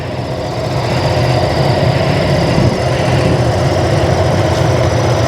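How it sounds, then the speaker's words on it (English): Ducati Multistrada V2S 900cc motorcycle engine running at an adventure bike festival, a dense low rumble that stays steady and loud throughout, with no talk. "I am now going out on the Ducati Multistrada V2S"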